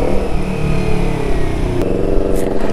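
A motorcycle with an aftermarket exhaust idles and revs loudly up close, a steady deep engine drone with a brief throttle blip partway through and no talk over it.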